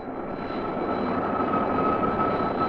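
Fixed-wing jet aircraft climbing toward 40,000 feet at full throttle, a steady, loud broadband engine roar with a faint high whine, continuous and unchanging throughout with no talk.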